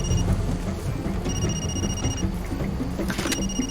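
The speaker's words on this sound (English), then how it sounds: "Oh, we've got another phone call." Phone ringing in the video game Far Cry 2, a thin electronic trill in two bursts over a constant rumbling game background, without speech.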